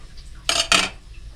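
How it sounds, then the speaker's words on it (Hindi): A lid goes onto a pot of rice cooking in boiling water for Kashmiri daal chawal, giving two quick, close metallic clanks in a row in an otherwise quiet kitchen. "अब हम इसको ढक्कन लगा देंगे।"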